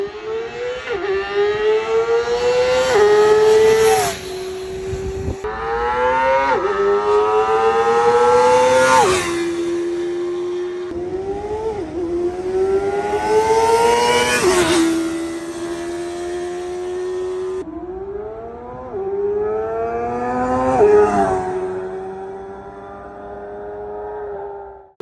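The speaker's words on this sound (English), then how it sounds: "I feel like this might be the best sounding motorcycle in the class." A ZXJC 500RR motorcycle engine revs hard through repeated upshifts, each pass climbing in pitch before dropping at the shift, loud and close for about twenty-five seconds with no talking.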